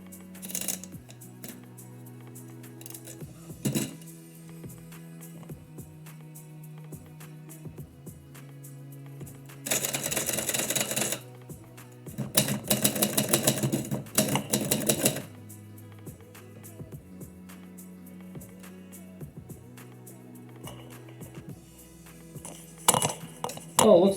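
Keys on a typewriter clatter in uneven bursts during a live typewriter poetry session, with sharp clacks, carriage noises and a few dense, louder flurries of rapid typing that stand out from quieter stretches.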